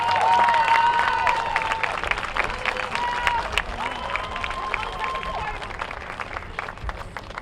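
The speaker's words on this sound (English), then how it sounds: "give your parents, friends, and loved ones, and the faculty and staff who have supported you a round of applause" Steady applause from a large crowd at a university graduation ceremony, with a sustained wash of clapping and some whistling tones mixed in.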